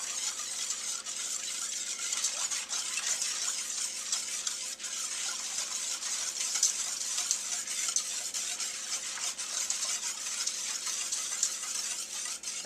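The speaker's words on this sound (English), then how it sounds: "basically I'm just stirring it just before I turn on the heat so that the sugar doesn't burn to the bottom" Milk and sugar stirred in a pot before the heat goes on for panna cotta, a soft steady swishing and faint scraping that runs evenly throughout, with no talk.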